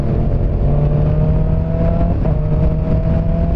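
A motorcycle engine running hard at speed on an open road, loud and constant, its pitch dropping briefly midway as the quick shifter changes gear, with steady wind roar and no voices.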